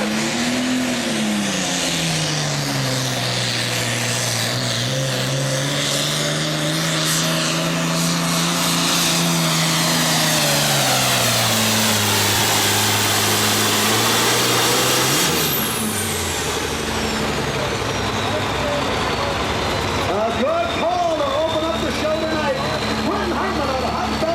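A Super Farm class pulling tractor at the 2003 American Tractor Pullers Association Midwest Summer Nationals roars loudly under load, its engine pitch rising and falling through a long pull while an announcer talks over the PA.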